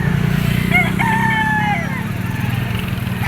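A gamefowl stag rooster crows once nearby in a short, strained call over a constant low engine-like rumble, at a gamefowl farm in Lipa, Batangas.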